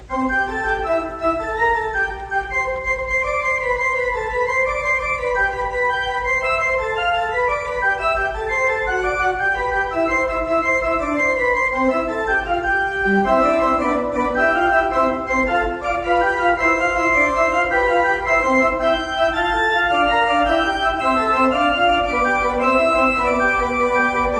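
Continuous pipe organ music, Buxtehude's Gigue Fugue, with busy, lilting contrapuntal lines in a dance-like rhythm, full and sustained throughout, no voices.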